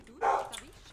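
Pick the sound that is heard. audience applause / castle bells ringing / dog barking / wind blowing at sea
dog barking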